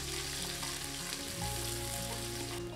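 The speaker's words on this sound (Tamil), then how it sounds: "வெங்காயம் லேசாக செவந்து வர அளவுக்கு நல்லா வதக்கி விட்டுக்கலாம்." Onions sizzle and fry steadily in a hot pan for vegetable biryani, a dense crackling hiss with occasional stirring scrapes, close and continuous.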